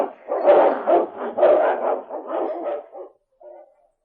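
A large dog in a 1949 radio drama snarls and barks fiercely in a continuous, close, rough volley that trails off into a brief whine.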